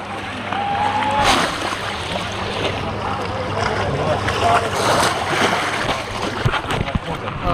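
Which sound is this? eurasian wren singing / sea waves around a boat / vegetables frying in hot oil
sea waves around a boat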